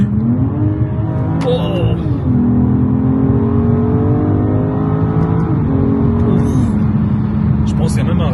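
BMW M440i engine revving and accelerating under a steady loud drone, with rising and falling pitch as it pulls through gears, close and continuous, with brief speech over it.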